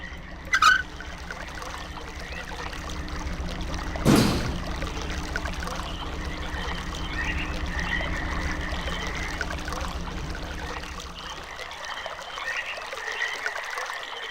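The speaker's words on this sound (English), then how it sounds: "As long as you can hear running water, that's the path you need to go to." Water running steadily through pipes in the video game Myst, a continuous low trickling flow with a couple of brief louder splashes or knocks early on, fading slightly toward the end.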